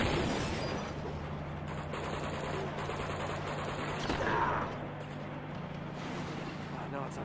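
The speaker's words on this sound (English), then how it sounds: "we're shooting the grenade launchers at the cars" Grenade launcher blasts and gunfire from the Uncharted 2 siege level, where shots are fired at cars, making a steady rattle of game combat with a low engine drone and people talking over it.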